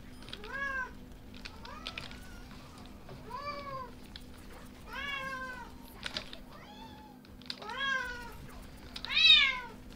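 Several cats meow repeatedly, about seven or eight distinct rising and falling cries spread across the stretch, moderately close, the last one loudest, over a quiet hum.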